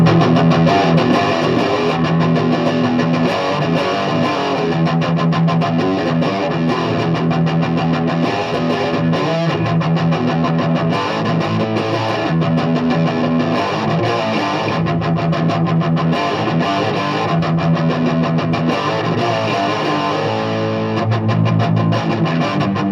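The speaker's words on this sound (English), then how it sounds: "That's an overdrive, distortion." Electric guitar played through overdrive distortion in a live jam of blues and classic rock riffs, a dense, sustained, loud crunchy tone running steadily for the whole stretch with no talking.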